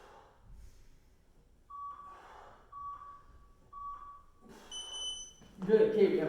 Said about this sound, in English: When the beeper goes, you're not just getting into it after the beeper goes